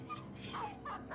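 A war dog in the fantasy video game Battle Brothers whimpers and yips in short, high, whining cries, faint and close, with no talk over it.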